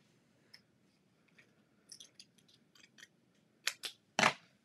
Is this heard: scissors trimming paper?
yes